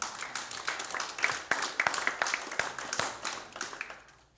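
A church congregation claps on a Sunday morning, with many hands giving a dense, irregular patter of claps that fades away at the end.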